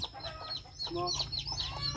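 A hen clucks in short, repeated bursts nearby, with faint background noise and a few soft peeps.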